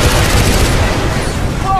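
Rapid, continuous gunfire from a mounted vehicle gun in Far Cry 4 rattles loud and dense through the whole stretch, with no pauses between shots.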